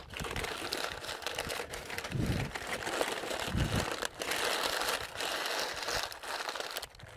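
Baking paper folded closed over lamb kleftiko prepared at a barbecue, giving steady close crinkling and crumpling with denser crunchy bursts, continuous throughout.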